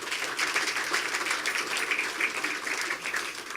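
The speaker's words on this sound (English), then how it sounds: "Let's give him another round of applause." Audience applause at a mayors' awards tribute, a dense, even wash of many hands clapping steadily from a distance, with no voices over it.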